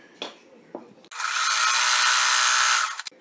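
A sewing machine stitching quilt block pieces together, a steady close whirring run of about two seconds after a few faint handling clicks, then stopping abruptly.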